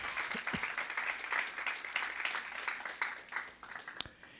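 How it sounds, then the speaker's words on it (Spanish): A church congregation claps during a Spanish-language sermon, a moderate sustained patter of many hands that thins toward the end, with a sharp louder sound near the close. "Dale palmas al Señor"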